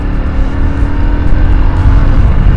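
A motorbike accelerating toward full speed on a highway, heard as a loud, steady engine drone mixed with heavy wind rush that swells slightly over a few seconds, with no talk.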